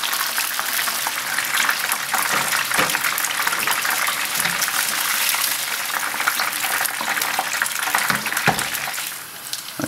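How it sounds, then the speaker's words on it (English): Beer-battered fish and chips fry in hot oil over raised heat, giving a loud, unbroken bubbling hiss with a few soft knocks, and no talking. "I've raised the heat, and I just want to cook them until they're nice and golden brown"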